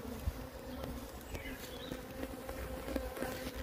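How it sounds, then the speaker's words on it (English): A steady, close swarm of honey bees in a hive made from a converted wine fridge hums continuously, with a few soft knocks and bumps underneath the droning buzz. "I've just moved these bees into a new hive."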